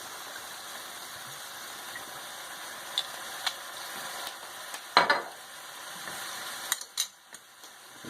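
Sloppy joe meat mixture with Worcestershire sauce stirred in a pan, a low sizzle under the occasional scrape and clack of a spoon, with a few sharper knocks near the end, close and quiet, no talking.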